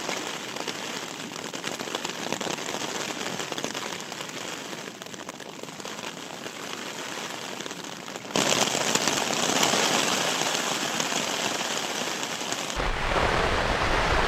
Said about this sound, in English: the forecast for rain was on the money, and heavy rain at it.